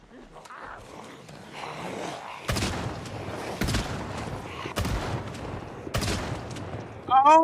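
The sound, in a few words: shotgun gunfire in a zombie video game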